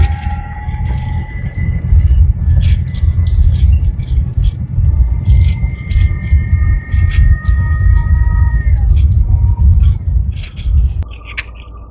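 Car driving on a road in Cayo, a loud steady engine and tyre rumble close inside the vehicle, with a faint tone that fades near the end and light clicks and rattles throughout, no speech.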